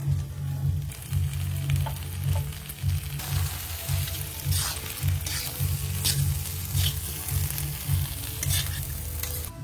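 Ghee sizzling in a pan with banana flower vegetables, a steady close frying hiss with spatula stirring scrapes scattered throughout, no voices.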